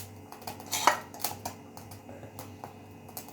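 A spoon stirs flour into melted butter in a pan for white sauce, with light scraping and clicking against the metal and one brief louder scrape, all faint and close.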